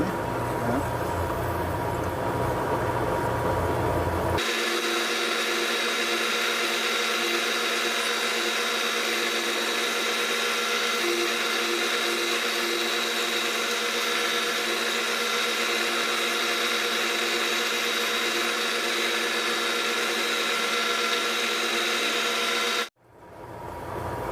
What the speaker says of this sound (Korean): 열심히 갈고 있는데요.